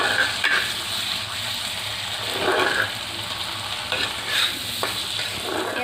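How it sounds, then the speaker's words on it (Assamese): Potato pieces fry in a pan with thickening gravy while a utensil stirs and scrapes in repeated bursts over a steady, close sizzle; no voices are heard. "আলুখিনি ফ্ৰাই কৰিব লাগিব।"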